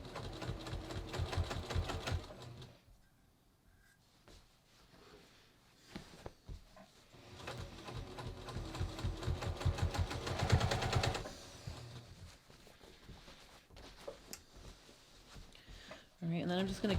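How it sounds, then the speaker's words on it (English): A sewing machine topstitches through both seam allowances of a denim skirt made from jeans, running in several bursts with pauses between them, while a person talks over and between the stitching. "I'm just going to follow along and top stitch through both seam allowances"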